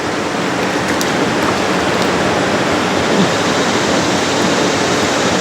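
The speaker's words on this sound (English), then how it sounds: "Getting a little louder, I can hear that water starting up" River water flows steadily at a fishing spot, a broad constant rushing wash that stays even and fairly loud throughout with no voices.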